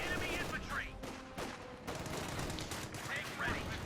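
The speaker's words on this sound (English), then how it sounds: "Rifle grenading off against the rifleman." Rifle grenade blasts and rifle gunfire in the Company of Heroes 2 strategy game, a dense continuous fusillade of sharp cracks and bursts with several louder impacts, heard up close under a steady battle din.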